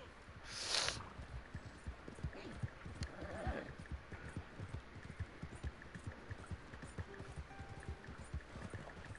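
A horse in a video game trots along with faint, steady clip-clop hoofbeats, quiet and continuous from start to end.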